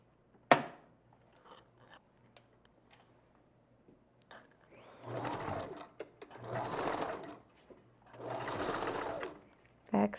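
A sewing machine back stitches a wig in bursts: three sustained whirring runs of a few seconds each, preceded by a sharp click and scattered light mechanical taps, close and moderately loud with no talk.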